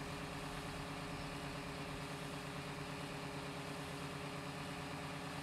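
Big Bud 747 tractor in Farming Simulator 17 idling, a steady low engine rumble with a rough, pulsing throb that stays constant and loud throughout, with no talk over it.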